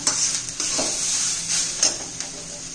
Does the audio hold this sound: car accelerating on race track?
no